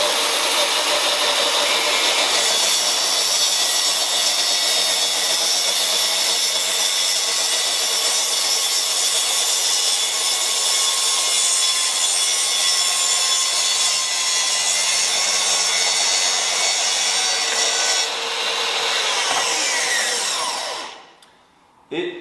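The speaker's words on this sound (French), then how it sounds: "je peux redémarrer mon trait de coupe" A power saw runs a long cut through wood guided along a rail, a loud, steady whining buzz lasting about twenty seconds before winding down and stopping.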